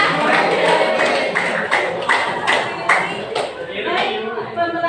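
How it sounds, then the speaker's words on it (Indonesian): A classroom of students claps in steady applause for a few seconds, fairly close and loud, with voices mixed in. "Kasih tepuk tangan dong buat semuanya."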